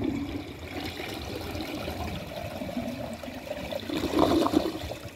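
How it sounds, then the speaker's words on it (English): A Cadet toilet flushing in a second flush: steady rushing water swirls for several seconds, then surges louder near the end as the bowl drains, heard close up with no talking. "But let's give this a second flush,"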